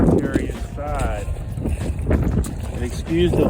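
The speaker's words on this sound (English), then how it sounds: "excuse the wind because it's dusting out here" Wind buffets a microphone outdoors beside a NuCanoe fishing kayak, a constant rough low rumble that surges and eases throughout.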